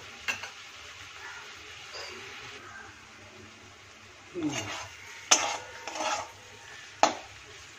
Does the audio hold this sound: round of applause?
no